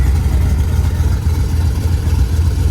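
A classic 1967 Dodge Dart at an outdoor car meet runs with a steady, loud, low-pitched engine rumble that throbs evenly throughout, with no talk over it.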